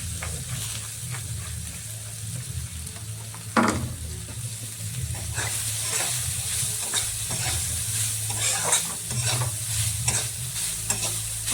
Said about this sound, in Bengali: হালকা করে ভেজে নেব। একটু নিয়ে নিয়েছি নারকেল কোড়া, এগুলো দিয়ে দেবো।